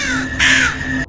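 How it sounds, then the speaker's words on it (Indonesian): Crows cawing in a horror film scene of a ritual with several crows, a few harsh loud caws close by, with one long rasping call in the middle before a sudden cutoff. "itu seorang wanita yang bernama Sudarsi sedang melakukan ritual dengan beberapa ekor burung gagak."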